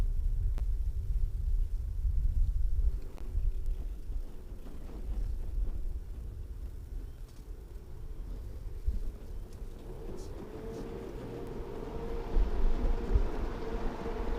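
Formula Regional Americas race cars at a standing start on a wet track at NOLA Motorsports Park, a low engine rumble with revs rising, then a swelling roar as the cars pull away, with no talk.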